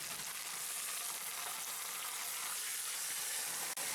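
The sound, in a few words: beef roast searing in cast iron pot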